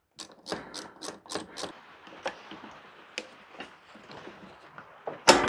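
A socket wrench ratchets on a clamp bolt of a worn Kubota BX1500 compact tractor: a quick run of close clicks, then slower, irregular clicks and a louder clatter at the end, with no talking.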